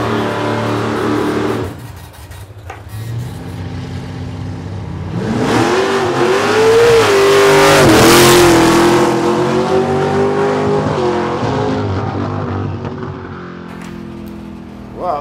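Drag racing cars launching at Heathcote Park test and tune, a brief lull then loud revving engines surging with tyre squeal and rising, wavering engine pitch as the cars race away, fading slightly toward the end.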